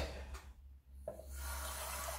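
Water trickles from a tap into a blender holding chopped ginger in a home kitchen, a short steady running stream with a brief pause partway, no talking.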